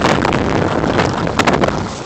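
Strong wind from a Christmas blizzard buffets the microphone in a loud, steady roar with gusty swells, heard outdoors while walking along a sidewalk.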